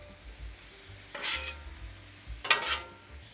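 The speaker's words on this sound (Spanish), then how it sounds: "ya cuando vemos que la carne está casi lista, le agregamos los vegetales," Beef and vegetables for a Philly cheesesteak sizzle in a pan. Two distinct bursts of stirring scrape and hiss over a low background sizzle, close and fairly loud, with no voices.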